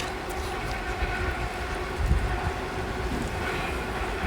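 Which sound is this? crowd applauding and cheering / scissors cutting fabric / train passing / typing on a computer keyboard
train passing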